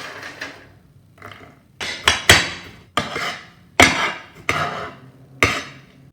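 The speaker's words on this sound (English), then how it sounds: "Once they're roasted, I'm going to take half of them and coarsely chop them." A knife coarsely chopping roasted pecans on a cutting board, with irregular close, crisp thuds and crunching strikes at a steady working pace, no talking.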